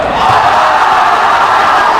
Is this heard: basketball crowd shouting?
yes